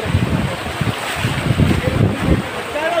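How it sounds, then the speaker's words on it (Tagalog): Loud, steady rush of fast-moving floodwater during Typhoon Ulysses, with a broad roaring wash, wind buffeting the microphone throughout. "Malakas yung lagasa."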